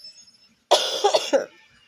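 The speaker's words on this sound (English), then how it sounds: "I'm still coughing this shit up" A sick person with fever, sore throat and stuffy nose lets out a single harsh, phlegmy cough burst close to the microphone, breaking into a few rough pulses before fading to quiet.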